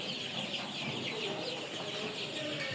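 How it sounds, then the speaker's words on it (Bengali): Sonali chickens in a poultry shed, a constant soft chorus of clucking and cheeping from many birds over steady background noise. "মুরগিগুলো কেমন জানি ছোট ছোট লাগতেছে তো সোনালি মুরগি পালন আমাদের এটাই প্রথম"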